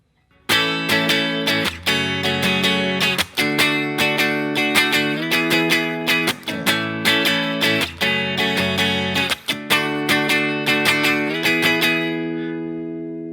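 A distorted electric guitar strums a sequence of chords, each held and then changed in a steady rhythm, ringing out and fading at the end.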